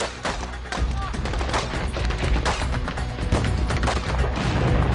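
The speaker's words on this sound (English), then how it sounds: "a convoy of Marines comes under heavy fire while driving past Baghdad" Heavy gunfire erupts around a Marine convoy in Baghdad during the Iraq War, with dense bursts of rifle and machine-gun shots cracking close and loud in rapid, overlapping volleys, mixed with shouting and engine noise.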